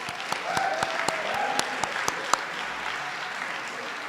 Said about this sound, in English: Let's give him some applause for that.